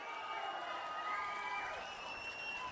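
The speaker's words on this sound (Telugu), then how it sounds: "గట్టిగా చప్పట్లు కొట్టి చెప్పండి, చేస్తామని." Crowd noise with cheering and shouting at a political rally, a dense steady roar of many voices with possible clapping underneath, lasting throughout.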